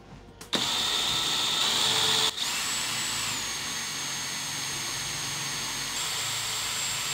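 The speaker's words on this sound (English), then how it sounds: "We have a drill now. We have it in reverse. We're gonna be gentle and let it melt through the plastic." A power drill running in reverse presses gently into plastic to melt a hole for a DIY mushroom fruiting chamber. It gives a loud, steady whirring drone that starts abruptly, dips briefly, then continues unbroken with no talk.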